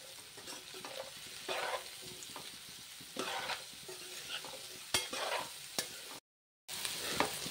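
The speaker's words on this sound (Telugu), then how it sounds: "మధ్య మధ్యలో ఇలా కలుపుతూ ఉండాలి" A spoon stirs bitter gourd pieces and salt in a pan in short, quiet bursts of scraping and soft sizzling, with brief pauses between strokes and no talking.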